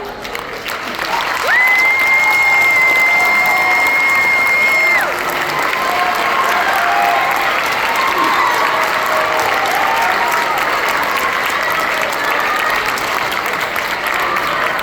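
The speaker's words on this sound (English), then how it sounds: "So I want to give another round of applause for our clinicians" Sustained audience applause after a middle school all-county honors band concert in North Carolina, honoring the band-director clinicians; dense, steady clapping fills the hall for the full length, with a high whistle-like tone near the start.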